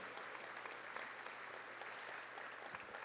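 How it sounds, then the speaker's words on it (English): A banquet crowd at a school athletics dinner gives the staff a long, even round of applause, a dense, steady roar of many hands clapping, faint and distant, with no voices over it. "Let's give one more time our entire contingent of staff a huge round of applause once again for their hard work and commitment"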